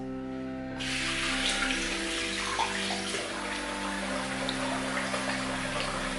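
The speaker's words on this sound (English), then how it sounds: "Just splash a bit more water on it." During a wet shave, a tap suddenly gushes on and water splashes and runs steadily into a basin, close and continuous, with a low hum beneath.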